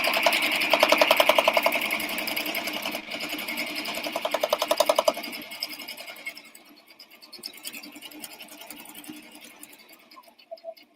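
A sewing machine stitches an apron hem in a fast, rapid needle chatter for about five seconds, then slows and fades to lighter intermittent clicks and handling noise.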